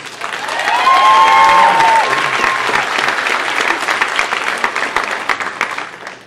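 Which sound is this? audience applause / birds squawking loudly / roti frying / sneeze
audience applause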